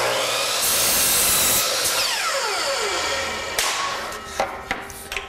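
A power saw spins up and cuts through the end of a wooden cabinet valance, the loud whine dropping in pitch as the blade slows, followed by a few sharp knocks and clatters of wood, with no talking.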